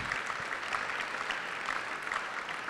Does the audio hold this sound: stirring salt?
no